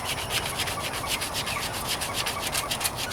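Hand sanding of painted metal on the trunk of a 1998 Toyota Corolla, a continuous close gritty rubbing with fast back-and-forth strokes, steady and loud with no voices.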